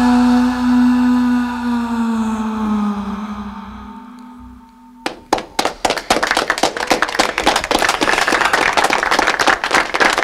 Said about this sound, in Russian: аплодируем вместе с теми, кто аплодирует сейчас вашим песням